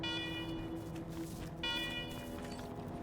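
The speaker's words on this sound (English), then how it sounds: "let's talk after you kill the alarms. I can hardly hear myself think." Alarms blare through a base in the video game Wasteland 3, a steady loud electronic tone with bright harmonic layers that briefly drops and returns. It fills the whole moment over a dense game soundscape.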